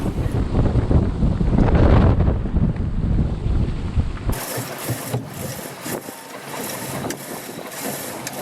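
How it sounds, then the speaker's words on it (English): Wind gusts buffet a sailboat during a snow storm, a heavy rumbling roar on the microphone that swells, then cuts to quieter rustling and flapping with intermittent knocks. "Weird gust."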